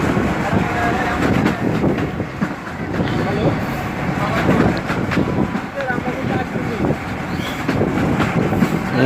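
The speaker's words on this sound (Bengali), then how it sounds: "ট্রেন মানে ছুটতেছে মোটামুটি ভালোই" A train running at good speed on the line, with a steady broadband rumble and rattle of the carriages and some wind noise, loud and continuous throughout; speech is faintly present.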